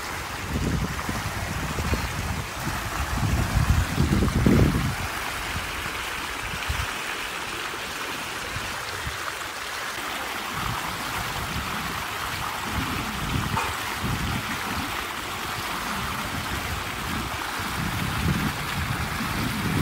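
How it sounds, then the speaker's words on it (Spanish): A countryside stream and waterfall near San Martín de la Vega del Alberche, Ávila, give a steady, close rush of flowing water throughout, with a few low rumbling gusts near the start. "Por allá hay una cascada."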